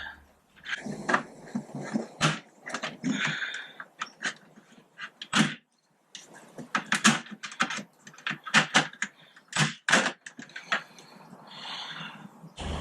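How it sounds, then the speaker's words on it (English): Plastic trim clips are popped off the bodywork of a Honda PCX scooter, giving a run of sharp, close clicks and snaps in irregular clusters with brief pauses between them. "what we're going to do is just pop off the wee trim clips as we go along and as we go around"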